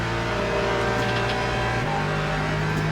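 A race car in Le Mans Ultimate, at the WEC 6 Hours of Imola, gives a short, steady engine drone that steps up in pitch partway through as it passes close by.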